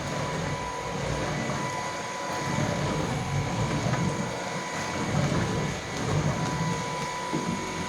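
A stick vacuum cleaner runs on its low setting with a quiet, steady whirring hum that continues throughout without a break.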